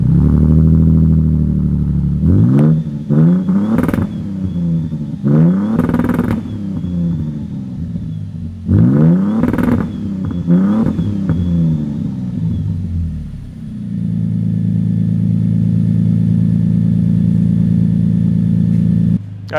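A widebody Toyota Tundra pickup with a Magnuson supercharger kit revs loudly up close in a series of sharp, rising bursts, then drops to a deep steady rumble as it pulls away on a test drive.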